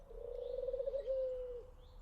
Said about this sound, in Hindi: लोक मान्यता है कि बसंत के समय आज भी वो घुघुती पक्षी के रूप में यही दोहराती है